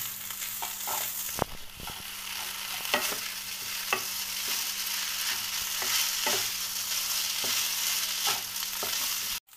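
Boiled vermicelli stirred in a hot pan with salt at the end of cooking, a steady close sizzle broken by several sharp scraping clicks of the spoon against the pan, with no talking.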